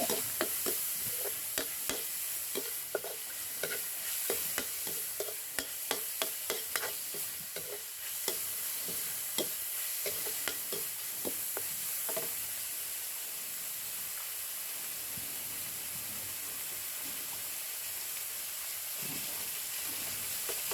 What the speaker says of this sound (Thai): ผัดไปเรื่อยๆ